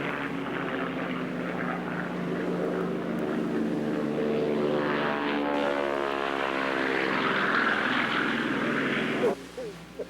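A Curtiss C-46 twin piston-engine transport flies past at a warbird airshow, its loud propeller drone swelling and shifting in pitch as it passes close, then cutting off abruptly near the end.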